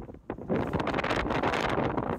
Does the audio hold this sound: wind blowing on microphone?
yes